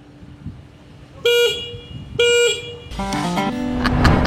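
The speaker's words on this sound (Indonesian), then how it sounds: "Dan ini adalah suara klaksonnya yang maco abis" Two loud, honks from a WMOTO Morbius 250 motorcycle horn, each lasting about a quarter second with a short gap between them, followed by a louder, busier burst of horn-like tones over rumbling background noise.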